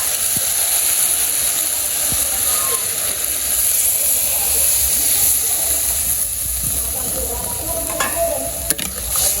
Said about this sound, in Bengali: আমার সবজি কষানো হয়ে গেছে, আমি জল দিয়ে দিব।